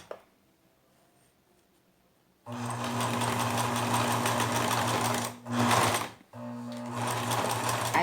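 A sewing machine on zigzag stitch runs loud and close, attaching cotton cord onto a decorative cushion, with a steady whirring drone that briefly pauses and restarts for a backstitch after a quiet start.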